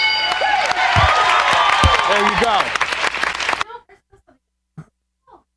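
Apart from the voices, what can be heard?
applause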